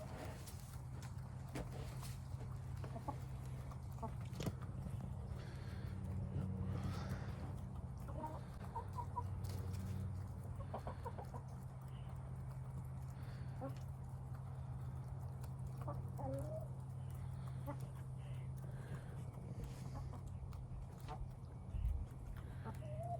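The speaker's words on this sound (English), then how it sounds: "that's the chickens" Chickens cluck softly in a backyard flock as they forage, a faint, scattered murmur over a steady low background hum lasting throughout.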